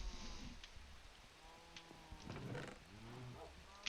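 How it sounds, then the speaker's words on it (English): Soft, continuous rainfall in the Minecraft video game, with scattered tonal game sounds and faint knocks rising briefly above the quiet patter. "I wish it wasn't raining right now."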